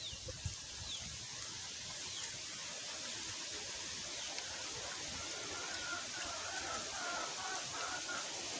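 Steady, faint rain hisses continuously, with a soft patter in the background and no other prominent sounds.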